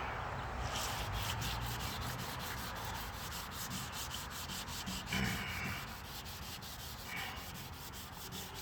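Continuous close rasping of wet sandpaper worked in crosshatch strokes over the painted body of a 1957 Chevy Bel Air, steady and fairly loud, with a couple of brief scuffs along the way.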